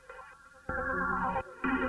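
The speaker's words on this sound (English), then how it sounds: "I have the vocoder on the sample and it's taking source from the vocal." A vocoded sample in a minimal house track, shaped by a vocal as its source, giving a processed, buzzy, robotic tone in two or three short bursts, close and fairly loud, with no talking.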